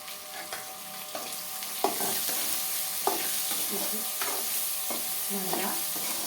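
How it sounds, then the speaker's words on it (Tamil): Eggplant and boiled cowpeas being stirred in a frying pan for a curry, with intermittent spoon scrapes and clinks over a steady soft sizzle. "நல்லா கிளறி விடுங்க"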